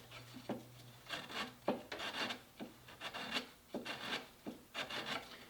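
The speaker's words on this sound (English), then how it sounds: "I'm stripping finish, not trying to do the final sanding yet" Rhythmic rasping strokes of an abrasive tool stripping finish off wood by hand, about a dozen back-and-forth passes, close and steady with no talking.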